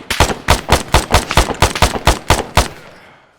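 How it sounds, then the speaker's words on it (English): Loud, close gunfire in the military video game ArmA 3: about a dozen evenly spaced sharp shots in a steady rapid rhythm, ending with a fading echo. "Everett, fire at that soldier"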